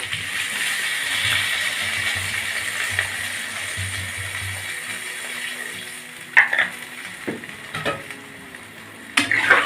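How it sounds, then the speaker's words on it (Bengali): Water is poured into a pan of Bengali cauliflower and potato dalna after frying, giving a steady hiss and simmer with a few sharp clinks of a spoon near the end. "এবারে আমি এর মধ্যে জল দিয়ে দেবো"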